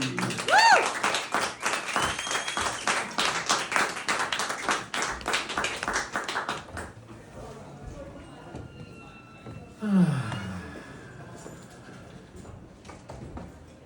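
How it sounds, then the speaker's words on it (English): A pub audience at an open mic night in Hove claps loudly and rhythmically for several seconds. The clapping then fades into quieter room noise and a brief shuffle or thump. "Everyone, please put your hands together and give a huge round of applause for Marrron."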